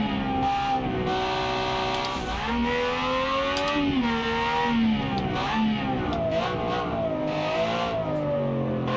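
A turbocharged car engine in BeamNG revs and strains with rising and falling harmonic pitch, a steady loud drone that climbs slowly, then sags and climbs again with no talk over it.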